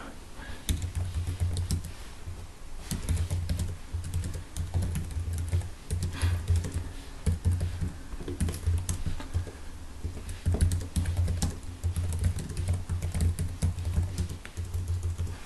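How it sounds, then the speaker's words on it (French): Typing on the keyboard dock of a Samsung Galaxy Tab, a steady run of quick, light key taps with an even rhythm that carries on throughout, close and clear with no voices. "On tape, il saisit comme un clavier normal."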